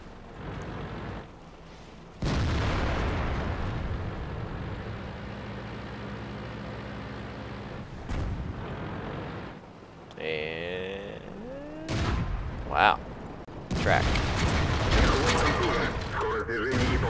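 Tank cannon shots in World of Tanks, several loud sharp booms with rumbling tails separated by mechanical engine and track noise, with brief talk in between.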